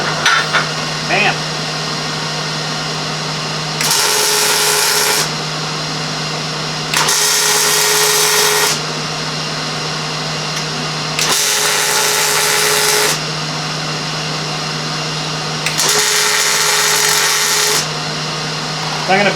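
D-rings are welded onto a custom rear bumper for a Jeep Wrangler YJ in four loud, crackling bursts of about two seconds each. A steady hum continues beneath them and through the gaps.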